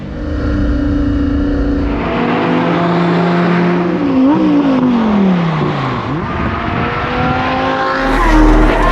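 Lamborghini cars on a club drive roar along the road loudly, their engines rising and falling in pitch as they accelerate, shift and pass.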